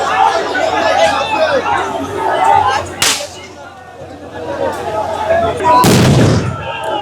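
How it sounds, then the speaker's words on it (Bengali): Two loud, sharp sound-grenade blasts go off near protesters in Dhaka, a few seconds apart, over a constant murmur of crowd chatter and shouting voices. "দর্শক আরেকটি সাউন্ড গ্রেনেড নিক্ষেপ করা হয়েছে।"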